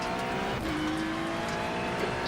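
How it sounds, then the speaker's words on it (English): A GT3 race car in a racing game at The Bend, a steady engine drone and tire noise with a faint passing whine, moderately loud and continuous. "Take care, there's a car approaching."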